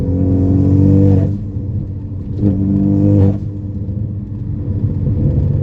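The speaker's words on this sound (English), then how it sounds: "I think you more or less hear the exhaust." A Ford Focus ST engine with a charge pipe and Tial blow-off valve rumbles steadily while driving, with a low exhaust drone that swells briefly twice as the revs rise, loud and close.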